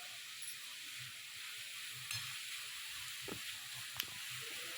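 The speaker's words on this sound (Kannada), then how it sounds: "ಆನಂತರ ಈರುಳ್ಳಿ ಫ್ರೈ ಮಾಡ್ಕೊತಾ ಇದ್ದೀನಿ." Onions fry quietly in a pan for a sandwich, a soft steady sizzle with occasional light clinks and stirring taps, faint and close with no voices.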